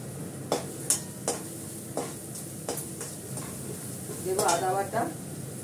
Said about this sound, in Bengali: আলুটা দেবো। ভালো করে কষিয়ে নিই।